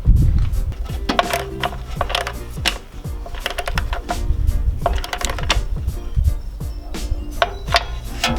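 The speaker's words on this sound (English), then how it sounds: "we can tighten down that side bolt using a 12mm socket." A ratchet with a 12mm socket tightens the side bolt of a fog light bar mounted on a Toyota Tacoma roof rack, giving rapid, loud repeated clicking in bursts throughout, close by with no talking.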